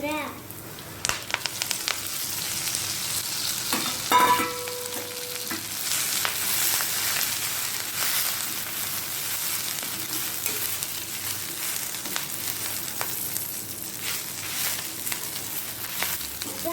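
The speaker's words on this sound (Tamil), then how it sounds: "இப்போ முருங்கைக்கீரை போட்டுக்கோங்க" Drumstick leaves for a stir-fried poriyal sizzle steadily in a hot pan, with scraping stirring strokes and occasional sharper clinks of the spoon against the metal running throughout.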